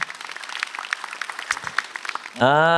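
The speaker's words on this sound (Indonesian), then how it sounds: "tepuk tangan buat dua-duanya" Studio audience applause on an Indonesian stand-up comedy competition show, a brief scattered clapping patter for the two comedians, ending abruptly as a loud sustained musical sting begins.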